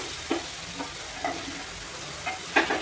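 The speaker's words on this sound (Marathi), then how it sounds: "लसूण, अद्रक सर्व एकत्र छान भाजून घेऊया" Garlic and ginger masala paste fries in plenty of oil in a pan with a steady soft sizzle. Periodic scraping stirs of a spoon come every half second or so.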